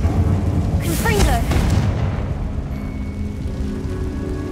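A Confringo spell blast in Hogwarts Legacy: a loud, broad burst with a brief rising whoosh, then a rumbling tail that fades into steady low background hum.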